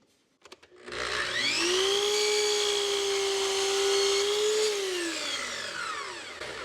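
A miter saw cuts crown molding to a set length, spinning up to a loud, sustained whine that holds steady for several seconds and then winds down, close by with no talk.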